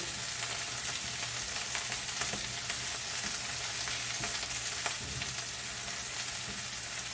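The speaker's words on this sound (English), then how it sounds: "You're gonna leave this to saute for about 2 to 3 minutes without messing with it, just so it can get some color in the pan" Sliced zucchini sautés in a pan with shrimp spaghetti in progress, a steady soft sizzle with faint crackling pops running continuously, no talking.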